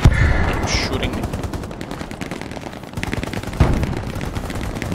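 Sustained automatic gunfire in a shooter video game, dense rapid rattling bursts that run continuously with a sharper report partway through, loud and close.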